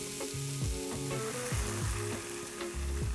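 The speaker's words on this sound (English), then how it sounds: "I'm gonna add a little bit of wine" Wine is poured into a pan of peeled fresh tomatoes, French shallot and garlic frying in olive oil, giving a steady close sizzle with repeated clinks and scrapes of stirring throughout, with no voices.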